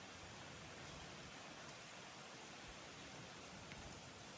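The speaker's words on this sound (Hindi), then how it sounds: "ये बूंदों की आवाज़ है।" Soft, steady patter of rain falling, a faint, even hiss with occasional distinct drops.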